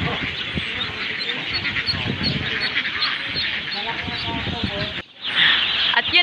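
Ducks raised free-range on a Philippine duck farm, a dense flock quacking and honking continuously at close range, with a brief dip near the end before the calls swell again.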